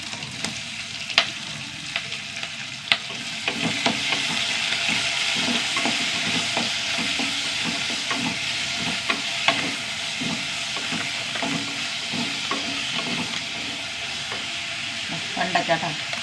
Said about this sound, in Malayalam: ഉള്ളി വഴണ്ട് വന്നു ഇത് തക്കാളി ഇട്ടാ വലിയ തക്കാളി